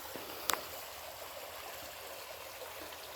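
A small creek flows steadily and quietly with a soft, continuous rush of water, heard alone with a brief faint click near the start.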